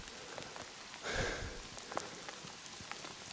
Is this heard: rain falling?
yes